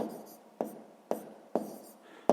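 Pen writing by hand during a sixth-grade maths exercise, a quiet, close scratching with four sharp taps spaced roughly half a second apart as strokes begin, faint and alone.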